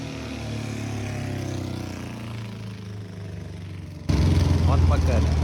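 A loud motorcycle engine rumbles steadily nearby for about four seconds, then the low drone swells abruptly louder and rougher as it comes closer.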